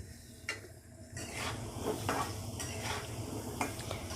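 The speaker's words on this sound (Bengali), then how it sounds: "এবার সবগুলোকে খুব ভালোভাবে মিশিয়ে নিয়ে আর আঁচটাকে একটু কমিয়ে নিব।" Potatoes with Kashmiri red chilli powder stirred in a pan, giving soft scraping strokes and light clinks of the spoon over a faint background sizzle, fairly quiet and close.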